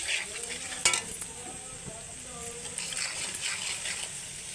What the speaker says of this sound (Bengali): অল্প জল দিয়ে দেব, দিয়ে একটু কষে নেব যাতে মশলার গন্ধটা না বার হয়।